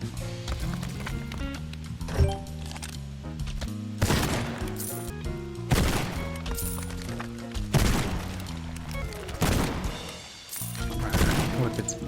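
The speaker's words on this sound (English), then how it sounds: "With the detector, we can just blast away the rest of the shotgun ammo." Shotgun blasts against zombies in the video game Zombieville USA 3D: about six loud, booming shots spaced roughly two seconds apart over steady in-game music.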